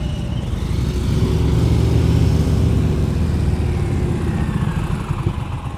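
Motorcycle engine idling and revving at low speed during slow-speed riding practice, a steady close, loud drone with rising and falling revs throughout, no talk.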